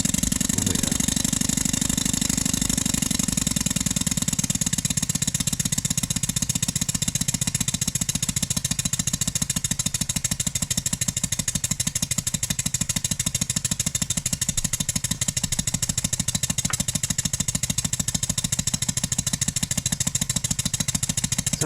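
Stuart 10V steam engine running on compressed air at low pressure after new piston ring and repacking, a steady, loud, rapid mechanical chuffing clatter that continues unbroken throughout, close by with no voices.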